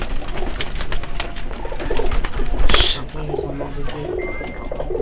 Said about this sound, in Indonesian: kalau teman-teman mau merpatinya keket keras, giring keras